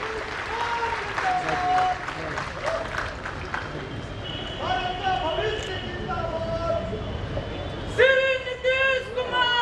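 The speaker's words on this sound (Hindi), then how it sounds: "अनेक अनेक तालियों से हम सब स्वागत अभिनंदन करें पुनः माननीय मुख्यमंत्री जी का।" An audience applauds in a hall to welcome the Chief Minister of Bihar during a visit to a nanotechnology centre. The clapping is loudest early on and thins out, while an amplified voice and a sharp burst of other sounds come late.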